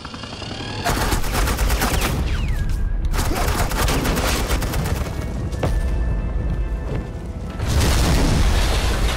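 Sustained suppressing gunfire in the video game Batman: The Enemy Within, loud rapid automatic bursts with booming impacts that drop out briefly and then resume.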